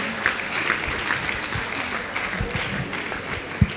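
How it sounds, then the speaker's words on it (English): A crowd at an honours celebration in the Ondo Kingdom claps as the Vice Chancellor comes forward, a moderately loud, continuous patter with a few sharper claps and faint voices underneath. "A round of applause for him as he comes."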